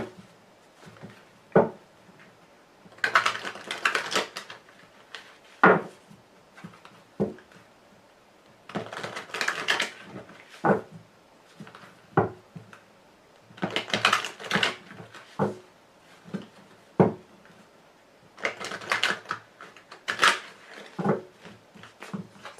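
Tarot cards shuffled and handled on a table in bursts of crisp riffling and flicking, with sharp taps and card slaps between, fairly close and with no talking.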